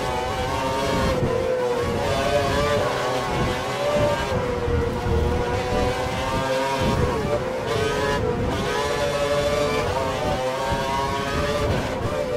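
Mercedes Formula 1 race car engine in the racing video game F1 2012, a continuous loud droning whine with shifting pitch, steady throughout and joined by other car sounds.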